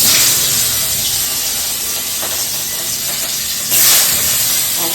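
Fish rubbed with salt and turmeric frying in hot oil in a kadai, giving a loud continuous hiss and crackle that swells briefly near the end, with no voices.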